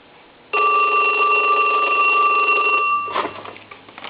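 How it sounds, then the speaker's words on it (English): An old Snoopy and Woodstock novelty telephone's bell rings loudly and continuously for about two and a half seconds, then stops with a brief clatter. "Let's go ahead and ring Snoopy."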